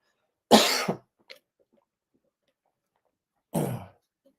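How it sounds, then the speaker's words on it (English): Two sharp coughs separated by a few seconds of silence, close and fairly loud, with a tiny click in between. "I'm going to cough."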